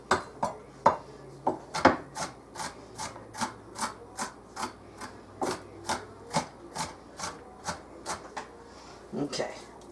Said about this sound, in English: I just chop it like so.